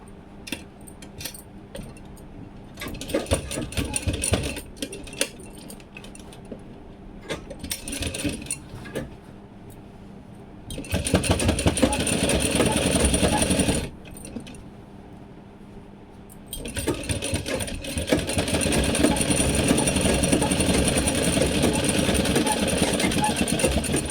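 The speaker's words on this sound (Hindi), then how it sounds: "ये साइडों से ऐसे इसकी सिलाई हम लगाते हैं इसको" A sewing machine stitches the sides of a tote bag made from a saree end, running in loud sustained bursts between quieter pauses with rattling handling noise, while a voice talks over parts.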